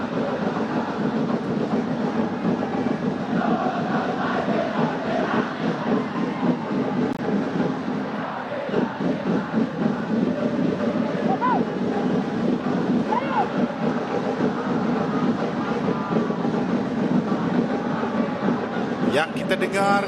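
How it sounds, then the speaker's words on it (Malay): Away supporters cheering at a Malaysian Super League football match between Kedah and JDT, a steady distant roar of crowd chanting that fills the stadium throughout, with a commentator talking over it. "Yang kita dengar ketika ini melakukan sorakan adalah penyokong-penyokong pasukan pelawat."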